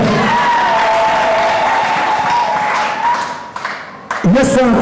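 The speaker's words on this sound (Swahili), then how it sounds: "Makofi mengi, haleluya." A church congregation applauds in a mixed roar of clapping and voices that carries under a sustained sung or shouted tone, then drops briefly before speech resumes loudly at the end.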